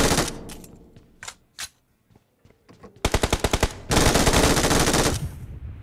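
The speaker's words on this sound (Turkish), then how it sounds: "MG sen nelere kadirsin be" Machine gun firing in a first-person shooter video game, a few scattered single shots giving way to two long sustained bursts of rapid automatic fire, loud and close, with no talk.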